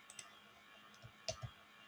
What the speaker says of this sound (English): I'll now click import.